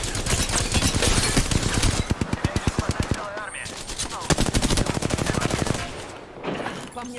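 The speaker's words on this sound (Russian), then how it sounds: "По мне стреляют. Мы стреляем." Rapid automatic gunfire from the Apex Legends battle royale game, loud and sustained with dense bursts of shots and a brief pause, with a player speaking now and then over the shooting.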